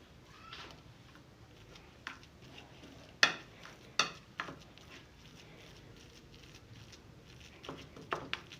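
Red food colour being stirred into a warm coconut laddu mixture, with a few scattered spoon scrapes and clinks over a low, faintly sizzling background, and no voices.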